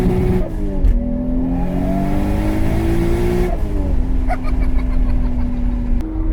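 A BMW 335i with an N54 engine on a 6766 single turbo, about 715 wheel horsepower, loud and close from inside as it accelerates through gears, revs climbing in strained rising pulls with abrupt drops at each shift.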